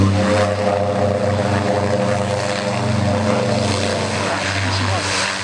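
OV-10 Bronco twin-turboprop aircraft making a tight turn on landing approach at an air show, its steady propeller and engine drone loud and continuous throughout, with a commentator talking over it.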